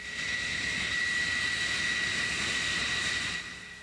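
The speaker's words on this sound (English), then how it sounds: "Another launch, airplanes leaving the cat again." Jet aircraft, including Tomcat fighters, launching off an aircraft carrier's catapult under leaden skies: a loud, steady engine roar holds for several seconds, then eases at the end.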